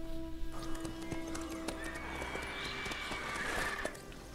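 Horse hooves pounding in a steady gallop with a neigh, from The Witcher 3 video game, loud and close over a busy layered game soundscape.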